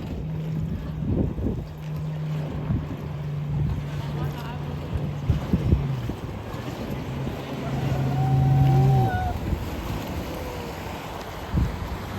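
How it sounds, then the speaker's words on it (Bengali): Speedboats on a lake at a tourist spot, boat engines droning and rising in pitch as one passes near, amid water lapping, wind and scattered crowd noise. "দেখো সামনে স্পিড বোট রয়েছে, এই যে এগুলো হচ্ছে স্পিড বোট।"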